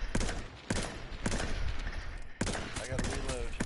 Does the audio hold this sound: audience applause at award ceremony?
no